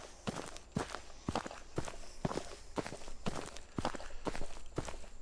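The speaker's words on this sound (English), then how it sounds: "It's a good start in the right direction there of actually hearing the footstep sounds." Footstep sound effects from a free Unreal Engine 4 asset pack, a steady walking rhythm of about two soft-edged steps per second on a hard surface, close and clear with a faint background hum.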